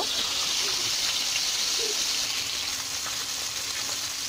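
Fish heads frying in hot oil in a pan, a steady loud sizzling hiss throughout with a faint bubbling undertone, close by and uninterrupted.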